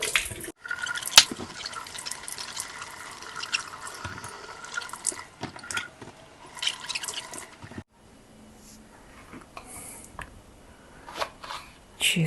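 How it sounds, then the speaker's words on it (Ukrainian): Hot peppers are rinsed under running tap water for a hot pepper sauce, giving a close, continuous wash of splashing and dripping with brief handling knocks, a short pause, then quieter trickling. "перше, що я роблю, гарненько мию перчик"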